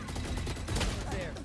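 Rapid gunfire in the Valorant video game, a dense burst of sharp shots crackling through a short stretch, loud and close, with game noise and a voice underneath.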